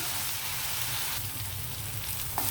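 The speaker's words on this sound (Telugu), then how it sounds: "అల్లం వెల్లుల్లి పచ్చివాసన పోయి ఉల్లిపాయలు వేగే వరకు వేగనిద్దామండి" Onions, ginger and garlic fry in a pan with a steady, close sizzle and crackle throughout, with no voices.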